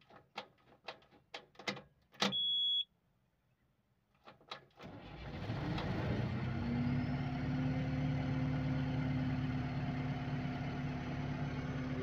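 A New Holland 2550 swather's engine starts after a few sharp metallic clicks and taps, then settles into a steady, moderately loud idle with a constant low hum that runs unchanged to the end.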